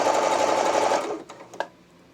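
A sewing machine runs fast and close while stitching fabric for a romper, a single dense burst of about a second that winds down, followed by a couple of faint clicks.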